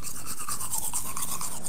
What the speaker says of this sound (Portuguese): Quem tá escovando dente na live?